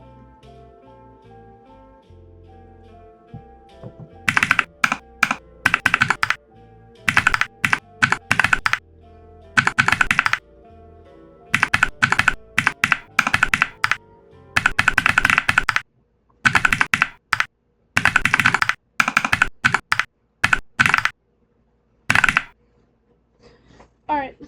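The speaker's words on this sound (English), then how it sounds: "this next one actually is a very professional keyboard sound. It's the Telos V2 on PBT" A custom mechanical keyboard fitted with Telos V2 switches and PBT keycaps is typed on in quick bursts of close, crisp, dense clacks separated by short pauses, with a faint background hum between the bursts.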